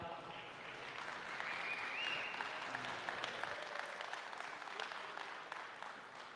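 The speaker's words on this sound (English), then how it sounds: "Give them a round of applause" An audience applauds at the Adopting Bitcoin 2024 conference in El Salvador, a steady wash of clapping from a sizable crowd heard at a distance and fairly quiet throughout, fading slightly toward the end.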